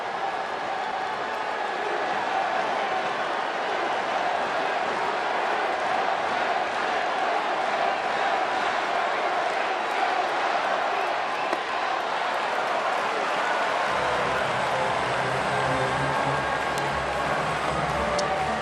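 A record crowd at a Padres vs Dodgers baseball game roars and cheers in a broad, sustained wash of noise, with a commentator's voice running over it.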